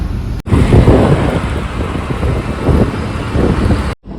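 Tata Nexon car being driven, a steady close engine and road rumble with wind buffeting, loud and continuous with brief dropouts at the start and end.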